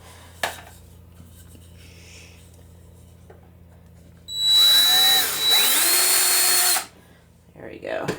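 A power drill runs loud and steady for about two and a half seconds, deepening holes in a DIY plant stand, with quieter handling noises before and after.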